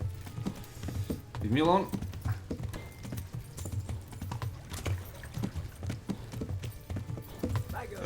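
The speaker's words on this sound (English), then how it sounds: "Okay, horsey got tired. Horsey got tired, horsey got tired. Go, horsey!" A horse gallops in the Kingdom Come: Deliverance video game, its hooves clip-clopping in a steady, fairly faint rhythm, with a brief whinny early on and a person talking over it.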